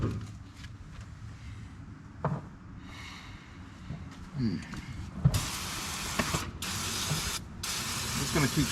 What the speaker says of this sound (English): Just gonna keep spraying on this.